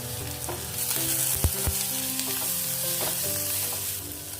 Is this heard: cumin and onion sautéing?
yes